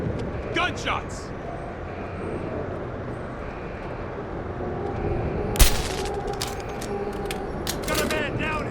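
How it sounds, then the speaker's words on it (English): Gunfire in the video game Deus Ex: Human Revolution: a sharp burst of shots cracks out partway through, followed by scattered smaller reports over a rumbling game background. "Gunshots!"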